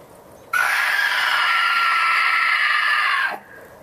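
A person screams outdoors, one sustained loud high-pitched cry lasting nearly three seconds that stops abruptly and leaves a brief echo.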